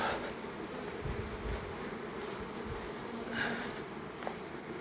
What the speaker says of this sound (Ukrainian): То маленький рій вийшов.